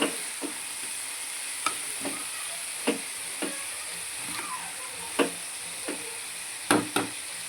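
Masala paste frying in oil in a pan for potato palya, a steady sizzle with scattered sharp pops and crackles, close and moderately loud, with no talking.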